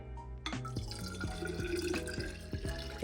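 Water pours into bottles in the kitchen, a close, steady filling sound with rising, gurgling pitch and small drips and glassy knocks throughout.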